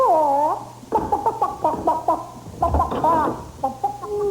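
A chicken clucks in a 1991 French-language Kentucky Fried Chicken television commercial, giving a string of short, bright, wavering clucks and squawks in quick bursts, close and clear.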